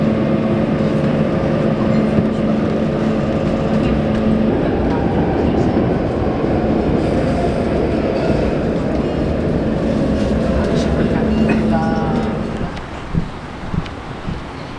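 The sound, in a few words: subway train ride in Barcelona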